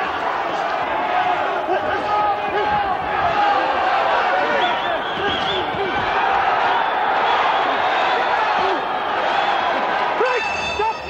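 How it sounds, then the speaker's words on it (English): A big Royal Albert Hall crowd roars and cheers at the close of an amateur boxing bout, a dense, sustained wall of applause and shouting that fills the whole stretch without letting up. "the Albert Hall crowd, and it's a big crowd, rise to cheer these two determined men"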